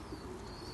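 A Malwai pigeon gives a brief low coo close by, faint against a steady background hiss, with a thin high chirp drifting above.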